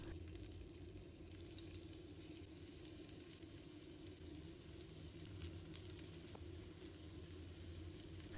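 Potato cakes fry in a pan of plenty of cooking oil, giving a steady, even, moderately faint sizzle that carries on without a break, with no voices over it.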